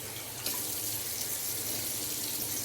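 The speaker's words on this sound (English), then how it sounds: "I'm just going to do it with cold water." Cold water from a bathroom tap runs steadily in a continuous hiss and splash, close and fairly loud, used for rinsing the face after a shave.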